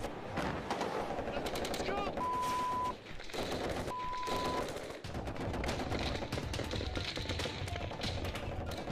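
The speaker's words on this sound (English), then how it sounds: "Suddenly, the calm disappears in a barrage of gunfire and mortar rounds." Heavy gunfire and mortar rounds in a battle during a raid in central Helmand province, Afghanistan, with dense rapid bursts, sharp cracks and thuds continuing almost nonstop, loud, with voices shouting at times.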